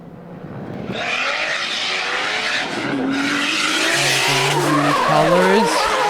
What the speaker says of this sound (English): 480 horsepower, 2JZ engine, Toyota Supra.